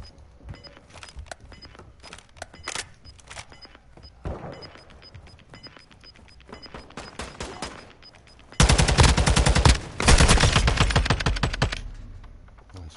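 Bursts of gunfire from a first-person shooter game, quiet scattered shots early on, then two loud, dense barrages near the end with sharp rapid reports.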